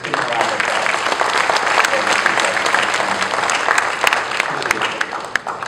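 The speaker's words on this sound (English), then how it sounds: "Let's give him a round of applause." A corporate staff audience at an AIG office event in KL Cyberjaya claps to congratulate a colleague, giving sustained, dense applause with sharper individual claps standing out near the end.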